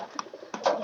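Pigeons in a loft with young birds, giving soft, close coos in short bursts, one fuller coo near the end.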